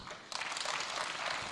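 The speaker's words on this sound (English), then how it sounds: "Let's give him one healthy clap." An audience at a Kenyan space expo presentation clapping in unison, a sharp collective clap followed by a short burst of scattered applause, fairly close and moderately loud.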